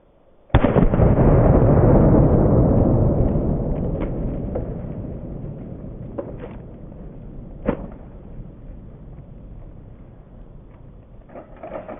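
A loud 12 gauge shotgun blast from a lever-action gun strikes a pineapple target outdoors, one sharp boom followed by a long decaying rumble, with a few faint clicks and pops trailing after.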